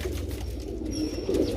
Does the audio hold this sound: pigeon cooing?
yes